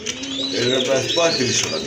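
Pigeons coo in a pair offered for sale at a bird market, steady soft cooing running beneath close, continuous talk.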